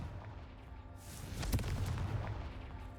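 A Confringo fire spell explodes in the video game Hogwarts Legacy, with a sudden booming blast that rises out of steady low rumble and fades into a rolling tail.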